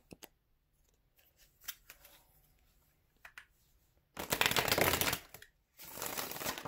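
Faint taps and rustles give way to two loud, rapid riffling bursts of tarot cards being shuffled, one long and one shorter.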